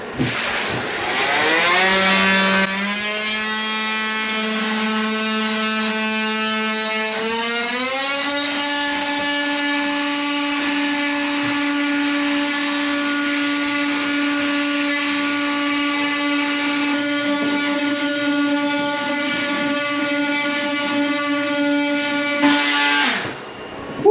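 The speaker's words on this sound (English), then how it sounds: "we're gonna take the multi-tool with the grout blade on it" An oscillating multi-tool fitted with a grout blade cuts into tile on a water-damaged floor, giving a loud, steady high-pitched whine that shifts pitch upward a few seconds in and runs continuously, with no talk.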